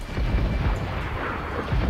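Ship cannon fire in the Assassin's Creed IV Black Flag video game: a sustained deep, rumbling boom with a dense low-end roar through the whole two seconds, loud and close, with no speech over it.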